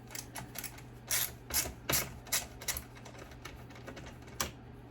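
A DeWalt screwdriver works screws out of a Cisco switch board, making a run of sharp, close ratcheting clicks in uneven bursts against a quiet room hum.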